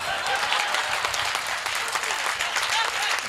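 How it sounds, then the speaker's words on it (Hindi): Audience applause at a Hindi kavi sammelan poetry recital in Gautampuri, a steady, dense clapping from a large crowd that fills the whole stretch without pause, loud and close. "इससे ज्यादा तालियां इस बात पर बजा सकते हो"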